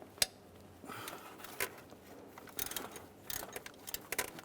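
Quiet clicks and metallic ratcheting as a ratchet with an E14 socket loosens a starter bolt on a BMW X3, scattered close taps and short ratchet bursts with brief pauses.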